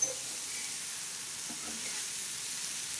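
A vegetable dish sautés in a hot pan for a home-style meal, giving a steady, close sizzle and crackle of frying that holds at an even level throughout, with no one speaking.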